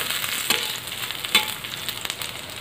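Urad dal fries in a pan with green chilli and ginger for tomato chutney, giving a soft, steady sizzle and crackle up close with a few brief stirring scrapes.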